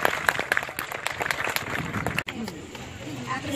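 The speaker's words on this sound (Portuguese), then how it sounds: "Vamos aplaudir." A crowd gathered outdoors in a rural village applauds during a tribute to a mayor, with brisk overlapping claps and background chatter that thin out partway through.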